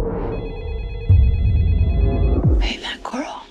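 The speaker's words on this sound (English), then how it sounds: "your phone is ringing" A telephone rings with a steady electronic tone, heard under low rumbling background sound before a burst of noise near the end.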